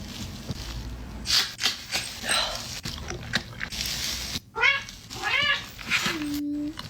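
A cat meows several times in short rising and falling cries, close and clear, with rustling and muffled noise between them and one longer drawn-out call near the end.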